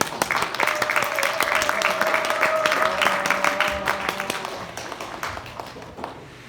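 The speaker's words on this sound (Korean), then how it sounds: "큰 박수로 맞이해주세요" An audience at a church high-school festival applauds to welcome the start of a youth play, a dense wash of clapping that swells for several seconds and then slowly fades, with a faint sustained tone underneath.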